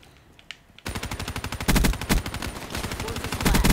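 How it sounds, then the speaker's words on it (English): Light machine gun from Black Ops 3 fires long, rapid, loud bursts of evenly spaced shots after a brief quiet start, with heavier impacts midway and at the end. "this LMG really does the job"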